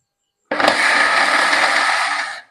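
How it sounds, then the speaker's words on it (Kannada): A mixer grinder whirs into action grinding soaked rice with jackfruit and salt for mulka batter, starting abruptly and running at a loud, steady roar for about two seconds before winding down. "ಇದನ್ನ ರುಬ್ಕೊಳ್ಳೋಣ."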